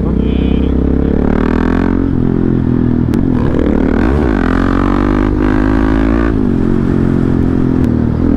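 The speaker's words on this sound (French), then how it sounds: "On peut même pas appeler ça une moto" A worn-out, smoking motorcycle that seems ready to fall apart runs close and loud. Its engine drones and rattles continuously, with a few swelling revs and scraping clatter along the way.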